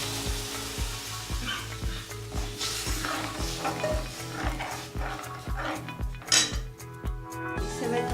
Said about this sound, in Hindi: प्याज अब भून चुका है, इसमें अब हम बेसन का घोल डाल देंगे।